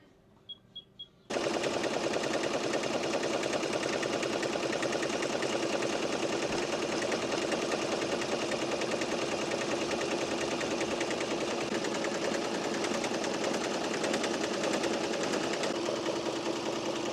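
An embroidery machine stitches a 3D puff letter onto a New Era hat. After a brief quiet start it breaks into a loud, steady, rapid mechanical hammering that runs on without pause. No one speaks.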